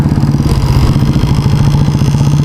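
A motorcycle engine running while riding along a road in Sambhajinagar, a loud, steady, close rumble that holds an even pulse with no pauses throughout.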